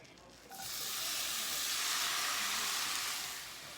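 Lentils sauté in melted butter in a saucepan, a soft steady sizzle that swells in after a quiet start, holds evenly, then eases slightly at the end, fairly faint and without talk.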